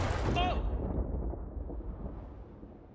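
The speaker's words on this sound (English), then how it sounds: "I just got struck by lightning." A lightning strike in the pirate game Sea of Thieves booms once, loud and close, then rumbles away and fades over a few seconds.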